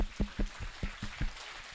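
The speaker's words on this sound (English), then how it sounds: "use your energy to give a big clap" Scattered individual hand claps from an audience at a public forum, a handful of sharp separate claps spaced unevenly in a roomy hall rather than full applause.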